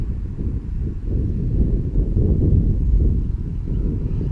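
Strong wind buffets a microphone outdoors during a GPS hold test of a Hubsan 502S quadcopter, a steady loud low rumble with gusts swelling through the middle and end, no talking.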